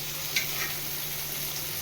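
A tempering for tomato dal fries in hot oil, giving a steady, even sizzle with faint crackles and no talking.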